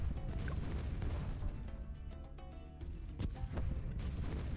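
Heavy booming bomb blasts in Bloons TD 6, several loud crashing bursts rising out of a dense, rumbling battle din with no pause between them.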